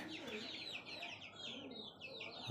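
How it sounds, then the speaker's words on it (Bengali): Tiger-breed chicks cheep in quick, high, repeated bursts throughout, close by, with soft clucking and faint background noise. "আজ আবারও চলে আসলাম এই যে আমার যে মুরগির বাচ্চাগুলা এদিকে"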